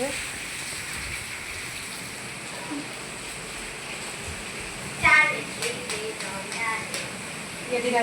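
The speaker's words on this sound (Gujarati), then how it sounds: "કેવો બધો વરસાદ આવી ગયો ને" Constant wash of rain in the background, fairly even and moderate, with children's voices calling out faintly in the later part as they play in the rain.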